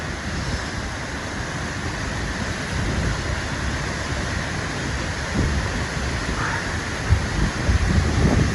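Close, continuous roar of Henrhyd waterfall pouring into its gorge, a thick rushing wash that holds steady, with a few faint knocks and small bumps near the end.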